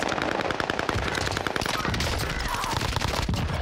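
Dense automatic gunfire rattles in rapid, overlapping bursts in a video game firefight, loud and near, forming an unbroken barrage with no talking.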